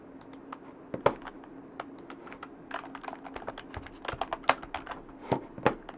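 Steady keystrokes on a computer keyboard while entering survey answers, irregular clicks and clacks at close range with occasional louder taps, alone without talk.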